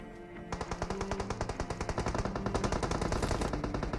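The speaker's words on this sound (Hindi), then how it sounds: "तभी स्क्वाड हाउस की तरफ से गन फाइट के साउंड आए।" Rapid automatic gunfire from a squad house on the Erangel map in PUBG, a dense rattling stream of repeated shots that starts abruptly after a brief lull and continues loud throughout.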